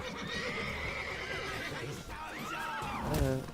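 A horse whinnies in the video game The Witcher 3, a long wavering neigh followed by a second rising and falling call, with faint hoof clatter and game ambience beneath.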